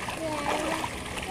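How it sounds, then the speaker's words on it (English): Running water splashing from a tap at a house, a brief steady splatter with faint voices underneath. "Won't you turn off the water?"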